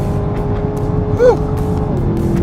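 A 2020 Camaro ZL1 LTE accelerates hard on a hot lap, a steady engine drone that rises in pitch with a brief swell of revving midway through.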